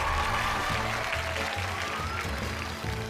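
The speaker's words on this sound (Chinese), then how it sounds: "更加热情的掌声要送给我们即将登台的 黄金选手" Loud, continuous applause from a studio audience on a CCTV television game show, filling the room with a steady roar of clapping over low background music.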